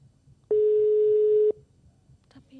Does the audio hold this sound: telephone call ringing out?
yes